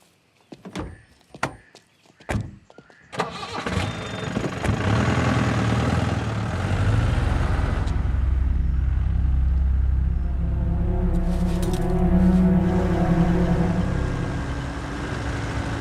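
A car door clunks shut with a few sharp knocks, then the engine comes to life and settles into a loud, continuous rumble that carries on steadily as the car drives away.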